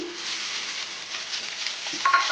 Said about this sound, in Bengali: আলুর ওপরে পেঁয়াজটা দিয়ে একটু নাড়াচাড়া করে নেব একটু লাল লাল মতো করে ভেজে নেব